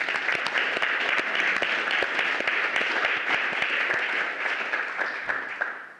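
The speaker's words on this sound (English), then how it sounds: "I think we should just give him another round of applause." An audience bursts into steady applause for a speaker at a community panel, dense hand-clapping sustained evenly before easing off slightly near the end, with no talk over it.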